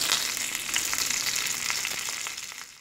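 Mustard seeds, dried chillies and curry leaves crackle in a little hot oil in a kadai, giving a dense sizzle with quick popping bursts throughout.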